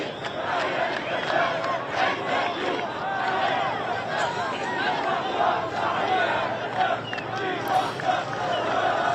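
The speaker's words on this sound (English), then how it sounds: "we can hear them chanting now." A large crowd of Hamas and Islamic Jihad militants and local people chants and shouts around vehicles during a hostage release, with many overlapping voices in rhythmic bursts at moderate distance.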